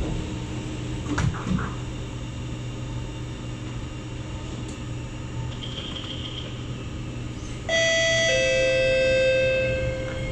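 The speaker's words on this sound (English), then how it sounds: "doors are closing" SMRT C751B train in Singapore, departing Bukit Gombak: steady cabin rumble with a few knocks, then the door-closing chime rings out loud as sustained tones near the end, with no talk.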